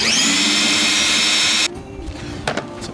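A power drill whines steadily at high speed as it drives a self-tapping screw into the body of a 1967 Camaro SS resto-mod. The motor stops abruptly partway through, followed by faint clicks and handling noise.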